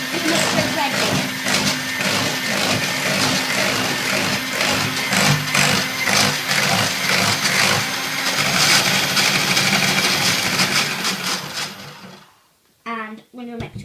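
An electric whisk runs on low speed through pancake batter, a steady close buzzing whir for about twelve seconds before it cuts off, with a voice talking over it.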